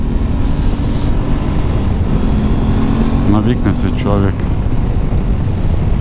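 Aprilia Tuareg 660 adventure motorcycle runs while being ridden, its engine drone blended with steady wind rush, continuous and close, as the rider talks over it.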